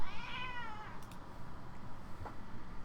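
A cat meows clearly once near the start, a drawn-out rising and falling call in a quiet room, followed by low background rustle and a faint click.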